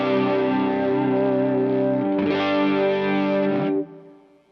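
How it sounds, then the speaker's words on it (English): Electric guitar run through a chorus pedal on a pedalboard, sustained chords with a shimmering, warbling tone and slight grit, one ringing chord changing to another midway before a fade. "This I have on a bit of a chorus set."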